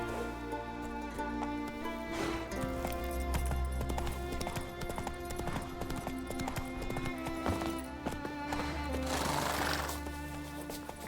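Rhythmic clip-clop of a horse's hooves galloping in The Witcher 3 video game, steady and continuous, with a neigh and music-like tonal layers underneath, fairly quiet overall.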